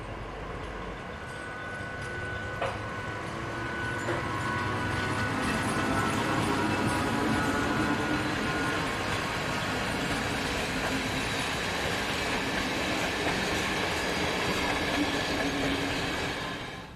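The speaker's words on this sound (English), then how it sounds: "This V43 electric quickly follows with a train for Zahan." A V43 electric locomotive hauling a passenger train rumbles past steadily, with rolling wheel noise and a faint rhythmic clatter, building then holding loud for the whole stretch.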